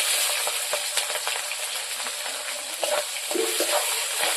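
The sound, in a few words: frying green chilli and chopped onion with cumin and bay leaf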